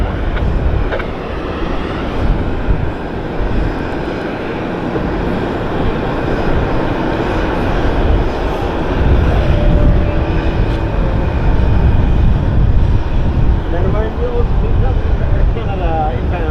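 A plane roars down the runway on its takeoff run at Vancouver Airport. The broad engine noise is loud and sustained, and voices speak over it throughout.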